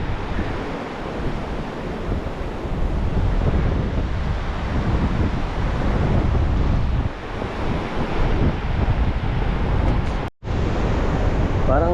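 Sea waves wash onto a sandy Boracay beach, a steady broadband roar of surf mixed with heavy wind buffeting the microphone, continuous and close, with a brief dropout near the end.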